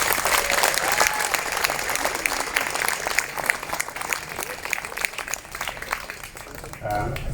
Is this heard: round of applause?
yes